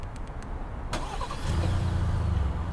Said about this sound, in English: it's a remote start, so you don't have to go inside the car and turn it on